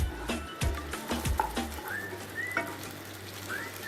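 Peri peri chicken frying in a pan, with a sizzling hiss under a run of sharp clatters and scraping knocks, followed by softer whistly squeaks as stirring continues.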